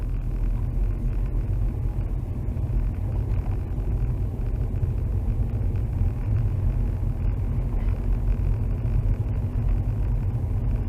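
Car climbing a hill on Nokian WR D4 winter tyres in the UK, a steady low engine and road rumble droning evenly throughout with no break or talk.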